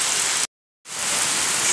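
Heavy rain pours steadily in Dizimeiro, Camocim, Ceará, as a loud, continuous hiss of drops on surfaces, cut by a short silent gap before the downpour resumes at full strength.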